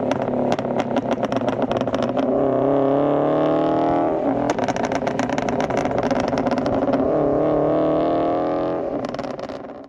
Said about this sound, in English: here's a clip of how it sounds